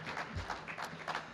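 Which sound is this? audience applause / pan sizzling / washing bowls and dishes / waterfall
audience applause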